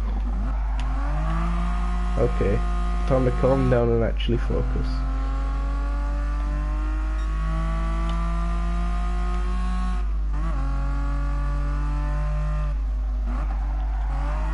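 A road car on sports hard tyres drives in GT Sport, its engine a steady droning tone with shifting pitch that runs beneath a man's speech and continues after he stops.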